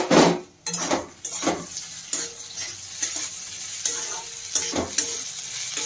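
Bitter gourd slices frying in a pan, a steady sizzle broken by repeated scraping stirs and clinks of a utensil against the pan, close and fairly loud with no talking.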